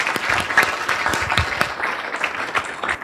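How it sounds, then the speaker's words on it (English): A small audience claps for about three seconds, a sparse, moderately close patter of individual hands rather than a large roar. "Give her a round of applause."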